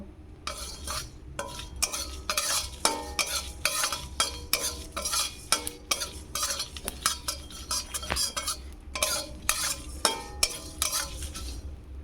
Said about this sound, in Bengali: কড়াই গরম হয়ে গেছে, তাতে আমি 2টো শুকনো লঙ্কা ও 1 চামচ গোটা জিরে দিয়ে ভালোভাবে ভেজে নেব।